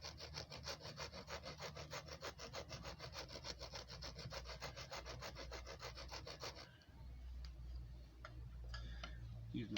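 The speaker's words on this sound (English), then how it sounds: "You can also use the saw portion of the blade to get really fine tinder just by rubbing it across" Saw teeth on a Beck WSK knife blade rubbed back and forth to scrape fine tinder, a fast steady rasping stroke rhythm up close that stops partway through, followed by quieter handling noises.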